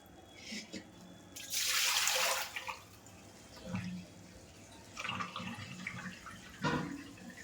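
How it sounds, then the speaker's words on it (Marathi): Water splashes and drains from soaked puffed rice through a sieve in a short gush, followed by quieter trickling and a few soft clatters. "चाळणी ठेवले तर लय लवकर नितळून येतं सगळं पाणी"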